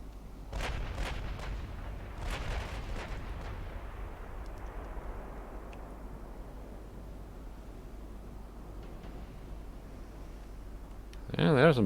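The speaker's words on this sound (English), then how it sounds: "Oh, battleships are firing already." Battleship main guns firing in Ultimate Admiral Dreadnoughts, a few deep booming blasts early on that roll away into a long fading rumble, with a brief louder burst at the very end.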